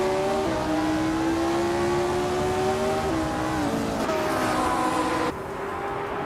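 Race cars in a racing game, led by a 1962 Porsche 804, start at Eastern Creek Gardner track with steady, loud engine drones whose pitch climbs through the gears, continuous throughout with no talking.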